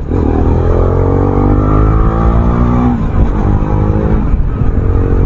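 BMW G310GS motorcycle being ridden, its single-cylinder engine loud and close, a rising rev through the first few seconds, then a shift and rough rumbling continuing under wind noise.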